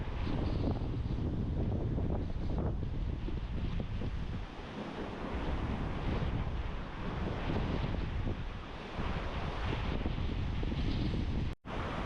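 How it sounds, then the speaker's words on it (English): Wind gusts steadily outdoors by the water at sunset during an evening of fishing, a loud continuous rush buffeting the microphone with a brief dip partway through. "The wind is still blowing."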